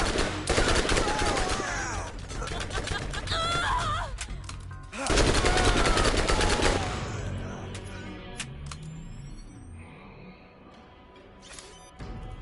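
An SMG fires rapid bursts in the video game Borderlands, the rattling fusillades loud and dense for about five seconds each, split by a brief pause and trailing off into scattered shots and game effects.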